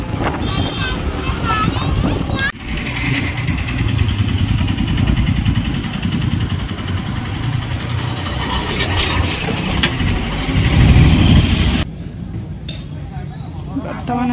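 Steady engine drone of a vehicle being ridden along an evening outing in Odisha, with wind rumble buffeting the microphone throughout and a sharp drop in noise near the end as the ride changes; no clear talk over it.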